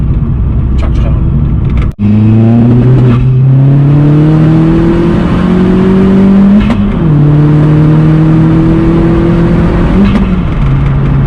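A stage 3 hybrid-turbo Astra VXR accelerates hard, its engine note climbing steadily through the gears with a sharp cut and drop between shifts, loud and close from inside the car.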